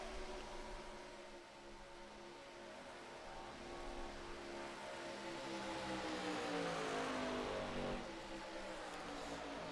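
ARCA stock cars racing side by side at Daytona, a distant, sustained engine roar with shifting pitch as the cars run in a pack, steady and fairly faint throughout.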